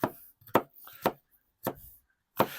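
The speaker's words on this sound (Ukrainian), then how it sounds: "Отак з вами рубаємо наші дві морквини" A knife chops two carrots into rounds on a cutting board, five sharp separate knocks with short gaps between them, close and clear, cooking a soup in a cauldron over an open fire.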